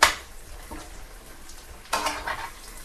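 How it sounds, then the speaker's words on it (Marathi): Brinjal frying in a pan with a low sizzle, broken by a clatter of pot and utensil at the start and again near the end. "फ्राय झाले, चला 5 मिनटं झाले आणि वांगे असे एकदम फ्राय झालेले"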